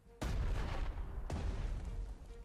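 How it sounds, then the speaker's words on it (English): Artillery fire in the wartime strategy game Panzer Strategy: two heavy booming blasts, the first at the start and a second about a second later, each rolling into a loud sustained rumble with no voices. "Yeah, I'll use the artillery."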